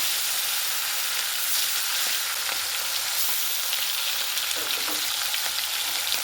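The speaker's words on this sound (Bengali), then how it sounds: "তো মাছ ছেড়ে দিচ্ছি, তেলটা গরম হয়ে গেছে।" Fish with oily skin sizzling as it is dropped into hot mustard oil, with a steady, dense frying crackle throughout and a few sharper spits and pops partway through, close and fairly loud.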